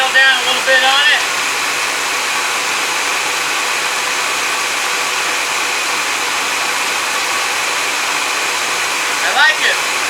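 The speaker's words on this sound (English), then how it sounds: "Turn the fast idle down a little bit on it." A 1965 Corvette with an L79 engine runs at fast idle, a steady loud roaring drone throughout, with brief voices near the start and end.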